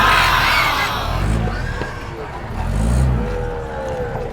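A vehicle packed with pigs pulls away at a livestock buy-and-sell market, its engine rising and fading twice over a busy crowd with shouts and talk around it.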